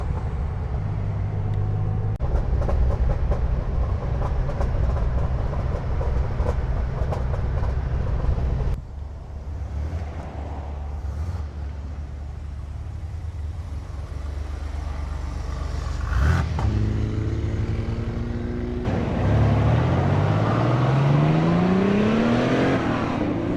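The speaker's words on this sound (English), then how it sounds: "this car, when you're in gear and just letting it roll, she crackles and pops" An air-cooled Porsche 911 Turbo engine rumbles loudly and continuously, then revs up and drops off, with rising pitch sweeps near the end and no talking.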